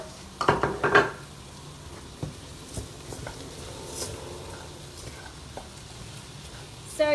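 Basmati rice and spices are stirred in a pot, starting with a cluster of clattering scrapes from the spoon, followed by quieter scraping and a faint sizzle. No one speaks.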